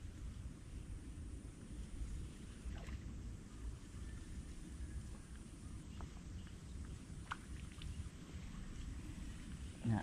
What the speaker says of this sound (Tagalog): Malakas na naman ang agos.